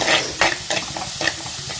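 Onions frying in a pan while cooking a spicy fish curry, with a constant close sizzle and several distinct scraping strokes of a spoon stirring against the pan.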